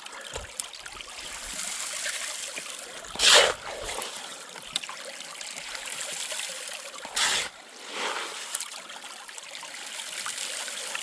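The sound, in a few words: gravel dropped into a gold panning sluice with water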